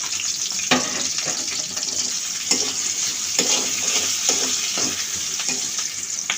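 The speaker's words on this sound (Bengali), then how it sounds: "এইদিকে এটা ভাজা পোড়া হইতেছে" Iftar snacks sizzle steadily in a pan of hot oil, with a constant bright crackle broken by a few clinks and stirring sounds and no talk.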